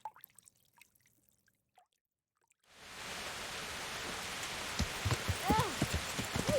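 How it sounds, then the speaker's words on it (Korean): Steady rain in Kingdom Come: Deliverance begins abruptly after a near-silent stretch with faint sounds, then keeps up a dense hiss with scattered louder drips and splashes. "갑자기 왜 비가 와?"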